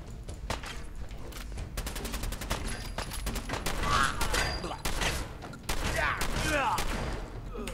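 Sustained gunfire from a weapon in Fallout 4, with a long series of rapid sharp shots in uneven bursts plus mechanical clicks and ricochet-like tones, loud and continuous throughout.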